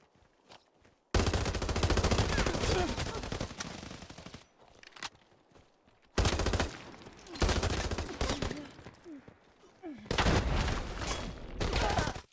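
Bursts of automatic gunfire from an online shooter video game, loud and sustained in three long volleys separated by short lulls, with faint footsteps and effects between them.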